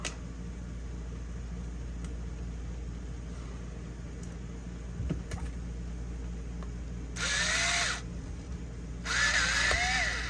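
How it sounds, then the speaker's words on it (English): A power drill on an HP 15-eg3278nr laptop hinge, over-drilling a screw to free the mount, whines in two short loud bursts near the end over a steady low hum. "So I just over drilled that screw and it freed up that mount"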